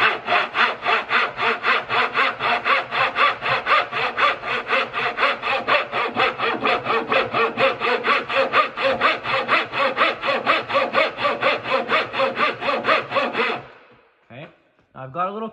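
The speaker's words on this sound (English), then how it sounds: "And you're going to just guide that saw." A dull hand saw cuts a rabbet in wood with fast, rhythmic back-and-forth rasping strokes, loud and close, for about thirteen seconds before stopping, followed by a few faint scrapes.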